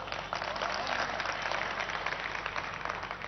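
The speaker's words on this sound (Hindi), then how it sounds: "अच्छा लग रहा आप ताली बजा रहे हैं" Audience applause at a political debate event in Bareilly, steady dense clapping from a crowd that holds at an even level throughout with some voices mixed in.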